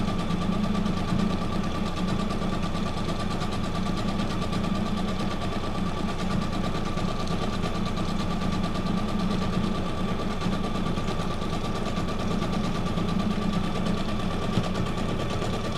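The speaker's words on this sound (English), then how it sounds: "I love the sound of the sewing machine." A sewing machine stitches junk journal paper in one steady, continuous mechanical whir with a fast, even rhythmic hum, moderately quiet and close, with no talking.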